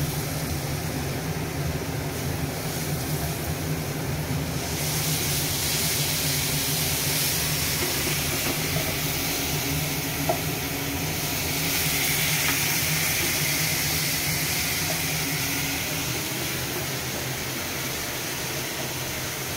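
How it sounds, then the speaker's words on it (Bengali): A gas stove burner runs on full flame under a steaming pot while dimer bhapa (steamed egg) cooks, giving a steady, even roaring hiss that swells slightly midway and holds for the whole stretch with no talking. "এখন গ্যাস আমার পুরো ফ্লেমেই আছে।"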